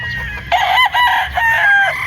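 A bulik rooster on a farm gives one loud crow very close by, its call breaking into several strained, rising-and-falling segments.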